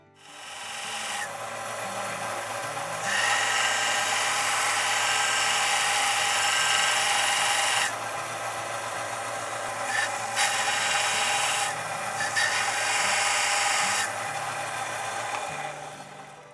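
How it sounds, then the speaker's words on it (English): An angle grinder cuts grooves into the tang of a knife made from a file, giving a steady, loud grinding whine that runs through the whole stretch with brief pitch shifts and pauses in intensity. "Gonna cut a couple grooves in here with the grinder"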